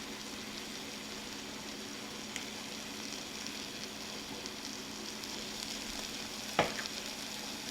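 Garlic paste sizzles in a pan of short rib chili, a steady, even frying hiss held at close range, with one brief sharp clink near the end and no talking.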